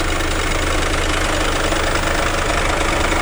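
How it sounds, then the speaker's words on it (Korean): Steady, even rumble of a Mercedes-Benz GLA200 d (X156) diesel engine idling up close, constant and unchanging throughout with no voices. "엔진 소리 일정하네요."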